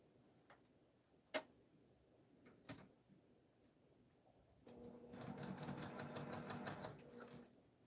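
Domestic sewing machine running a steady rapid stitch while piecing a pressed-flower pansy quilt block, starting after a few scattered clicks and handling knocks, then whirring continuously and fairly close for the last few seconds.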